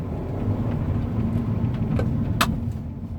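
A Hyundai i20 car engine idles steadily with a low, continuous rumble, and a brief rattling clink sounds partway through.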